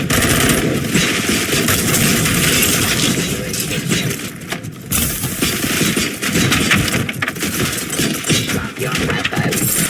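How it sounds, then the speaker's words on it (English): Gunfire in the video game RoboCop: Rogue City, rapid loud automatic bursts and mechanical clatter continuing for the whole stretch with brief gaps, close and dense, without talk. "Gunshots? What's going on?"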